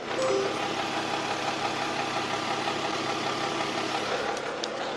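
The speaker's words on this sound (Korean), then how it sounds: "바로 엔진 소리 한번 들려드릴게요" A SsangYong Chairman W CW700 4Tronic luxury sedan engine idles steadily and smoothly up close, a constant low hum with no talking over it.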